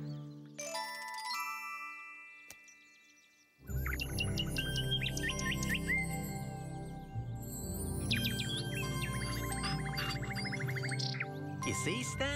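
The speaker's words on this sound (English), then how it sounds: "The Nightingale's son is still learning the song." Cartoon nightingale song as a young bird learns from its father: bright chirps and tweets over tinkling, chiming music, starting sparse and thin, then growing into a dense, busy stretch of warbling and instrumental sound.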